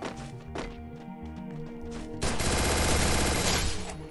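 Rapid gunfire in the Free Fire battle royale video game, a continuous loud burst of automatic shots that kicks in halfway through after scattered quieter game noises.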